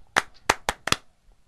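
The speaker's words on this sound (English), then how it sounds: "Clap, clap, clap, clap, clap." Sharp hand claps used as a sound effect on a radio talk show, four crisp close claps in a quick uneven rhythm.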